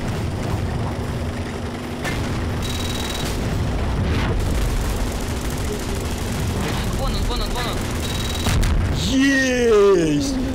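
Garry's Mod shell explosions boom over a constant rumbling engine drone, with a louder burst and whooshing, descending tones near the end.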